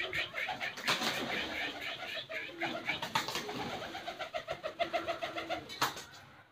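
Nasawada pigeons coo nearby in a repeated, rhythmic series of soft throaty calls, some overlapping, with a person speaking over parts of it.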